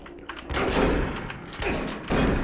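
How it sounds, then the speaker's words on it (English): A heavy explosion in DOOM 3 booms with dense low rumble and broadband crackle, swelling over a couple of seconds with a second loud burst near the end. "The explosion is weird. It makes everything shake"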